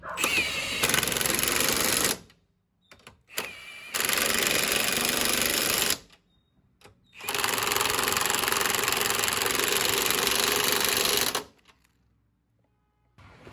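Three long, loud bursts of power-tool whirring and rattling, split by short pauses, as a 15 mm bolt on an aftermarket front strut of a 2016 Toyota Corolla is tightened, with no talking.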